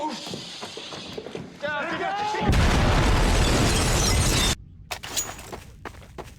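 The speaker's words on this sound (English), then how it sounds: "Carol brings Rick a grenade" A grenade blast in a zombie TV drama, a loud roaring burst lasting about two seconds that cuts off abruptly, preceded and followed by voices and scattered bangs.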